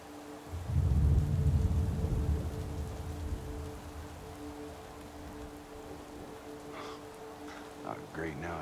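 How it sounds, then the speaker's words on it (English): Rain with a low rumble of thunder in Madden 18, the thunder swelling early then fading into a steady faint hiss of rainfall, with someone speaking briefly near the end. "now it's raining"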